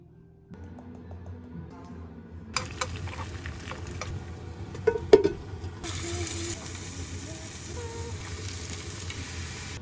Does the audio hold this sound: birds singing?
no